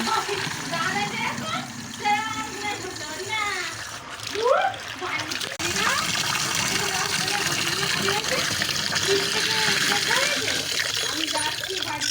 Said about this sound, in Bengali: এই যে এই বালতিটা শুধু ভরবো